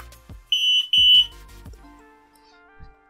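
An Arduino flood detector's warning buzzer sounds two sharp, loud electronic beeps in quick succession, followed by softer lingering electronic tones in a quiet room.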